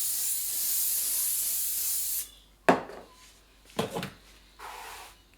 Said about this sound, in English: spray a bit more